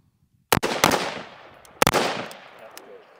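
Rifle shots at an outdoor gun range: two sharp, loud reports, each followed by quick extra bangs and a long fading echo, spaced about a second apart.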